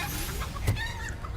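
A chicken transformed by a spell in Hogwarts Legacy gives a short cluck in the middle, over a steady game background hum and faint tonal effects.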